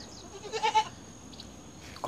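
A young goat in a mountain forest homestead lets out a short, wavering bleat, then faint rustling and light background noise follow.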